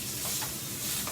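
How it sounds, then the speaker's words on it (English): Lamb seasoned with garlic salt sizzles steadily as it fries in a pan, a close, dense crackle with no talking over it. "That sizzle is what you want"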